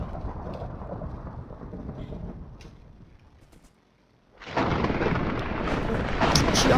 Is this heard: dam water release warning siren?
no